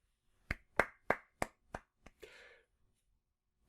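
About six sharp hand claps in a slow, slightly uneven rhythm, close and clear, followed by a brief breathy sound and then quiet.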